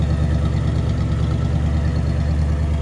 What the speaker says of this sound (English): It sounds good, that 360 V8.